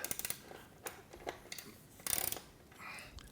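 A ratchet socket wrench clicks through short bursts while tightening bolts during assembly of a Body Solid EXM3000 home gym, with quick rapid ratcheting at the start, scattered single clicks, and a denser louder burst midway.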